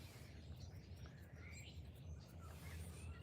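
Small birds chirp and tweet in short, faint, scattered calls over a low, steady background hum, with no clear speech.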